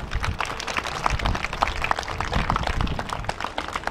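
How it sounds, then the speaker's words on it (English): Scattered applause from a small crowd at a groundbreaking ceremony, steady clapping that carries on for a few seconds. "Please give them a round of applause."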